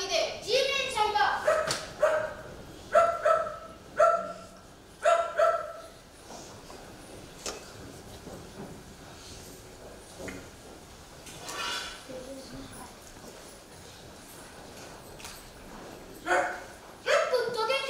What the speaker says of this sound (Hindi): ये कुत्तों के कितने झाट हैं।